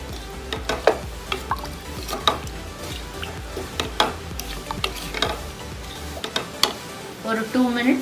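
Chicken gravy made with coconut milk boils in a pan, with scattered bubbling pops and soft clicks over a low simmering hiss, close up and fairly quiet.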